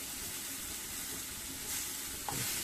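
Cumin seeds and ginger-garlic paste sizzle in hot oil for shahi matar paneer, a dense, continuous frying hiss that holds steady throughout, close and alone.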